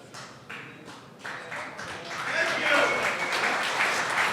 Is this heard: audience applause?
yes